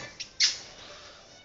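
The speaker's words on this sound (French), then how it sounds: "Pauvre petit, t'as perdu ton perroquet?" A parrot in a Pirates of the Caribbean video game gives a short chirp, then a sharp, louder squawk that quickly trails off.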